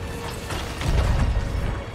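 A ship's anchor drops in the pirate game Sea of Thieves, giving a brief rumbling mechanical ratchet that swells into a heavier clatter midway through two seconds, with no talk.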